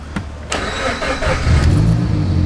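A customer's car engine cranks and starts during an installation job, rising from a brief crank into a loud, steady running rumble close by.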